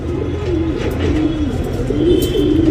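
Domestic pigeons kept for tournament flying coo steadily in a loft, a continuous low murmuring of several birds close by with faint higher chirps mixed in.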